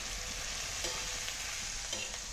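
Bombay duck (bombil) fish frying in hot oil and masala in a pan, giving a steady loud sizzle all the way through, with a couple of faint scrapes of stirring.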